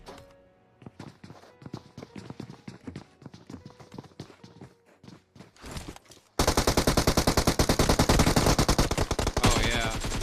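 Rapid video-game gunfire as teams shoot each other in a competitive scrim, a stuttering run of sharp shots that gives way to a dense, loud, continuous burst of automatic fire.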